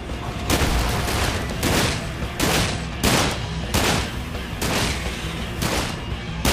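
Rapid bursts of gunfire roar nonstop while shooting down enemies in the video game Sunset Overdrive, loud and dense, with heavier blasts punching through about every second.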